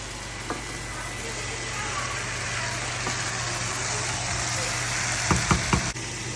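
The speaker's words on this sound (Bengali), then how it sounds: "এখন মাছ ভাজা চলছে এখানে" Fish frying in a pan gives a steady, close sizzle with a low background hum, and a few sharp clinks and taps near the end.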